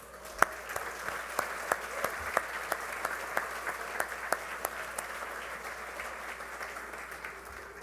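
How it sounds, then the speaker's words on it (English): An audience applauds steadily, many hands clapping together with a few sharper claps standing out, sustained for several seconds. "Let's give them a round of applause."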